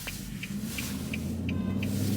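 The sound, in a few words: car driving in rush hour city traffic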